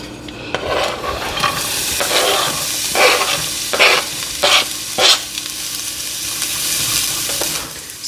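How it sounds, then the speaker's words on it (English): Red onion sizzles in piping hot oil, a close, steady crackle broken by several sharp scraping strokes of a utensil stirring the pan, with no voices. "So I want the oil to be piping hot so that our onion can begin cooking"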